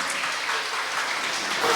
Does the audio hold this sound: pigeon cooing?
no